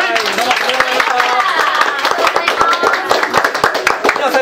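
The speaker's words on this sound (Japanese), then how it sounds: "大きな拍手をください。" A crowd claps in a dense burst of applause, many hands patting irregularly at close range, sustained for a few seconds.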